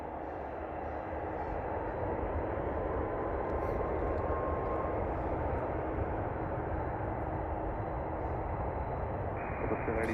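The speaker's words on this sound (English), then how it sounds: "Here's our flight going to Munich, A350 going to Munich." Airbus A350 airliner bound for Munich passing at a distance, a broad, steady roar of jet engines sustained throughout, moderately loud and unbroken, with no voices over it.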